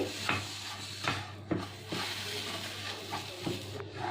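A spoon scrapes and stirs garam masala, chopped chilli and ginger in a hot pan, with repeated rubbing strokes over a faint sizzle.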